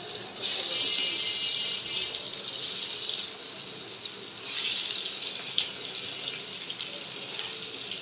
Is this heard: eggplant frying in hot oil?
yes